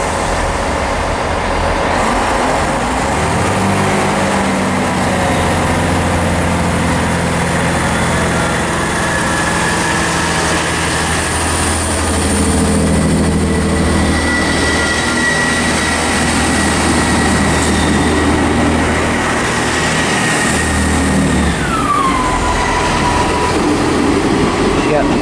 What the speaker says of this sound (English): arriving in is actually the other East Midlands train service to Norwich